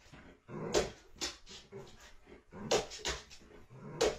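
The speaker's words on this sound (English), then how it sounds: "Every time he puts on jeans, their dog gets excited because it means it's time to go outside." An excited greyhound whimpers and yips in short, high, broken bursts, three stronger whines standing out over a few seconds close by.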